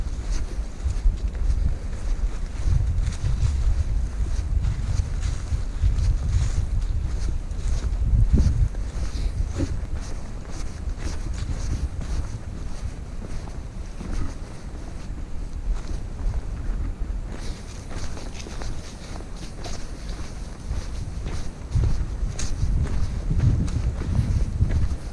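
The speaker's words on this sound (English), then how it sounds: "So it's really windy" Strong, gusty wind buffets the microphone with a continuous low rumble and roar, rising and falling over a long stretch without any talking.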